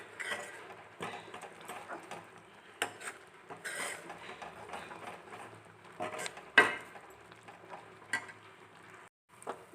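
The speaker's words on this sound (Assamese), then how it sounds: "বেচন এনেকৈ অলপমান দি ভালদৰে লৰাই পেলাই ইয়াত মিলাই ল'ম" A spoon stirs gram flour into milk in a pot, mixing a paste for besan laddoo, giving soft irregular scraping and clinking close by with no talking.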